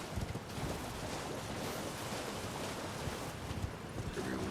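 A waterfall in the video game Elden Ring, in the Deeproot Depths area, makes a steady broadband rush of falling water, continuous and fairly loud, with no talking.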